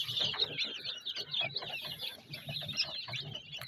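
Busy chirping and clucking from a group of newly hatched chicks in an incubator, continuous and close, with soft rustling and scuffling underneath.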